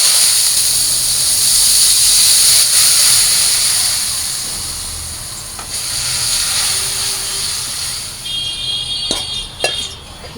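Dried red chilies and mustard seeds sizzle in hot oil for a sour lentil dal, a loud, steady, close hiss that eases briefly midway and picks up a few sharp crackles and pops near the end.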